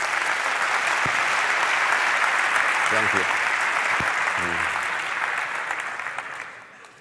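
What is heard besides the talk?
audience applause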